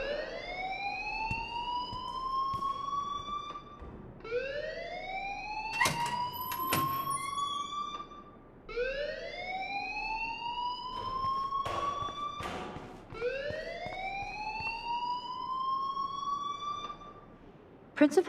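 A school fire alarm in the video game Life Is Strange, loud rising electronic wails repeating about every four seconds with a few short clicks and thumps between them.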